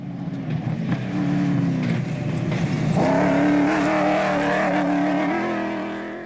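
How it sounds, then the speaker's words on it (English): A Toyota Hilux rally car races in a 2013 off-road rally, its engine droning and revving up through the gears as it draws near and passes, the strain rising and falling steadily with no talking. "Not far behind them, the Atlas Copco Hilux of Van Biljon and Hasselman."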